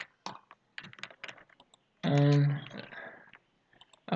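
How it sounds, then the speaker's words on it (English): Fingers tapping on a computer keyboard in quick clusters of light clicks, close and fairly quiet, broken by a short voiced hum in the middle. "how do I type this way?"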